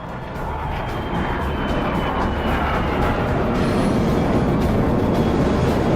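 A Super 0G zero-gravity aircraft climbs at a 45-degree angle, its engines making a loud, steady, broadband roar that holds unbroken throughout.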